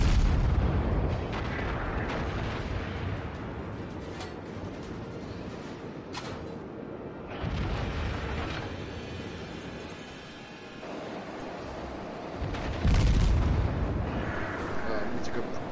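Naval guns boom repeatedly against a battleship in the World of Warships game, heavy low blasts with rumbling decay layered over constant engine and sea ambience, while a voice talks throughout.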